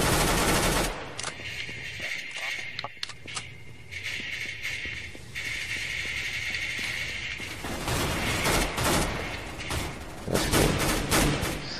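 Rapid automatic gunfire from Counter-Strike: Global Offensive on Xbox 360, with dense bursts of shots and clattering weapon sounds filling the clip, pausing briefly near the middle before heavy firing resumes.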